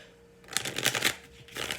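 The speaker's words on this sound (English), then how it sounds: "Have to shuffle one more time because the cards did a funny thing." Tarot cards being shuffled close up, a few quick riffling bursts with brief pauses between them, no talking.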